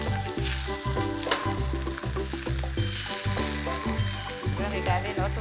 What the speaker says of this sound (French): On appelle ça la cuisson à la poêle.